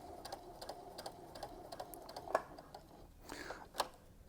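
A sewing machine stitching fabric pieces for a turkey-shaped Thanksgiving centerpiece, pivoting at a corner, with short runs of rapid mechanical ticking and a few sharper clicks, close and fairly quiet.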